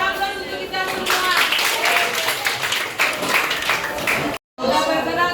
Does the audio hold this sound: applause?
yes